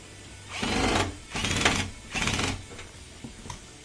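An LG front-load washing machine, just repaired for a draining fault, fills and agitates in three loud whooshing surges of water and drum motion, each about half a second long, followed by quieter clicks and knocks.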